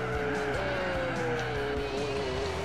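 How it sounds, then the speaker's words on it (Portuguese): Race car in Gran Turismo 4 braking hard, a continuous engine drone with a sustained tire squeal sliding steadily in pitch, loud and close throughout. "Tá vendo? Tô freando"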